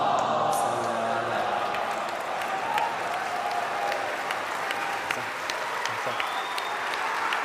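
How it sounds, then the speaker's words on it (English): A live crowd at a Shia recitation competition grand finale in London gives a standing ovation, with sustained broad applause and scattered whoops and cheers throughout, filling a large hall at a steady level. "A standing ovation from the crowd"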